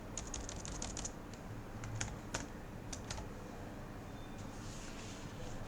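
Quiet typing on a computer keyboard while writing C++ code, a cluster of quick key clicks in the first second, then scattered taps at irregular intervals over low background hum.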